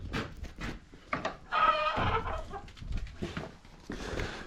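About twenty chickens cluck and chatter in a barn, a busy, overlapping flock heard close by with no pause.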